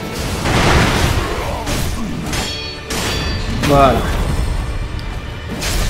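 Firecrackers used in the game Sekiro: several sharp crackling bursts and thuds, spaced a second or so apart, amid combat noise, with someone speaking French over them.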